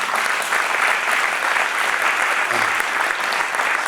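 Audience at an awards ceremony applauding, loud dense clapping from a full room sustained evenly throughout.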